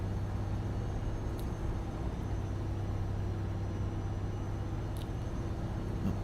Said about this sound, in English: I'm not overpowering with the truck noise compared to the microphone.